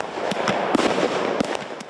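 Fireworks explode in a dense, continuous crackle of sharp pops and bangs, loud and close, with several stronger reports standing out from the steady rattle.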